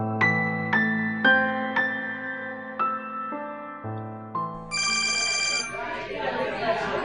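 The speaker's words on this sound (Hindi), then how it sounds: "फोन है, रिसीव करो, रिसीव करो।" A phone rings with a repeated melodic ringtone, a series of bright notes, followed by a burst of noisy sound as it continues.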